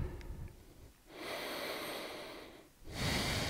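Slow, deep breaths during a yoga class, with a long airy exhale, a pause, then another full breath rising loud and close at the end, with no talking.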